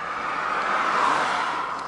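A car drives past on a road beside a scrap-metal run, a steady broad whoosh that swells toward the middle and eases off, fairly close, with no voices.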